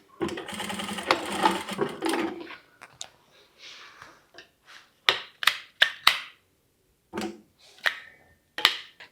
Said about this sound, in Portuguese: agora eu vou passar uma costura aqui, ó, na boquinha